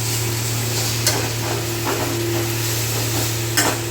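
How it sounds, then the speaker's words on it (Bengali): Pumpkin greens with sesame seeds fry in a pan, a steady close sizzle with occasional sharp spatula scrapes and taps against the pan; no voices. "এইভাবে ভাজতে ভাজতে যে যতটুকু শাকটা সিদ্ধ না হয়ে থাকে সেই শাকটা সিদ্ধ হয়ে"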